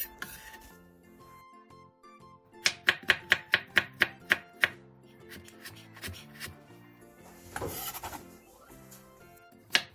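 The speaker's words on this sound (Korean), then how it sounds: "양파 3개와 당근 2개를 얇게 채 썰어주세요." A knife slices onions and carrots into thin strips on a cutting board, with a quick run of sharp, close chops and softer scraping before and after.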